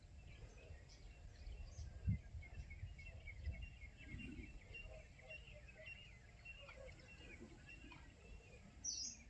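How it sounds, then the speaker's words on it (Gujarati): Faint morning bird chirps and tweets drift in from a distance over a low, steady outdoor hum. "હું ઘડીક વાર ન બોલા ને તો તમને પંખી ન અવાજ સંભળાય"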